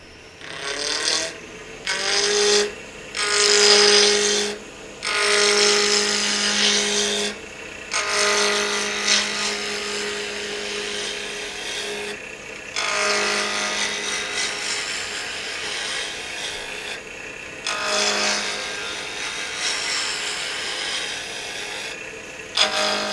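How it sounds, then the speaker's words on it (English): A wood lathe spins at 3000 rpm as a spindle gouge trues a maple burl blank, giving loud intermittent scraping, rasping cuts over a steady motor hum, broken by several short pauses between passes. "I'm going to turn lathe speed up to 3000, and I'm just going to true it up with a spindle gouge"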